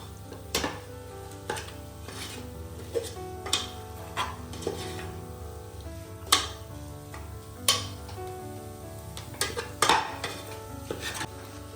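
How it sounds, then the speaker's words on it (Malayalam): Biryani masala sautéed in a pan for Kerala-style chicken biryani, with repeated sharp clinks and scrapes of a spoon against the pan over a steady low sizzle and background hum, no voices. "ഈ മസാലേൻ്റെ പച്ച മണം പോകുന്നവരെ ഒന്ന് വഴറ്റണം"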